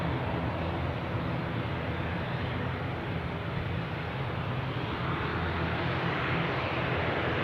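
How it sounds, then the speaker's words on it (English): Loganair ATR 72-600 turboprop airliner at Newcastle airport, a steady, continuous engine roar with broad rumble holding at an even level throughout, no voices present. "we have a Loganair ATR 72 600 pinging, and here we go"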